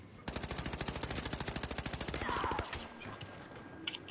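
Rapid automatic gunfire in a competitive shooting video game, a long, evenly spaced burst of close, sharp shots lasting over two seconds before stopping, followed by quieter game ambience.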